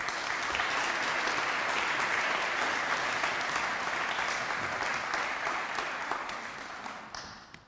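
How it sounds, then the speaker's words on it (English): Forum audience at a Drucker management event breaks into sustained, dense applause that fills the hall steadily, then tapers off toward the end. "I'm glad you asked for an applause before I started"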